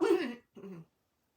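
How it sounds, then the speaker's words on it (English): A person clears their throat twice in quick succession, a rough rasp followed by a shorter, softer one, close to the mic, then silence. "I'll probably clear my throat a lot."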